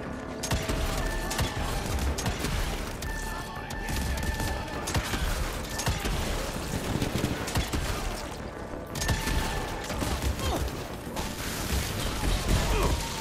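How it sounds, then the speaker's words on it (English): Enemies in the Western action game Evil West fire guns at the player in a dense, continuous barrage of shots and impacts, loud and close, with crashing hits and brief bursts of speech buried under the fusillade. "Stop shooting at me, fuckers."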